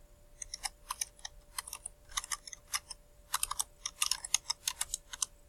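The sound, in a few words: typing on a computer keyboard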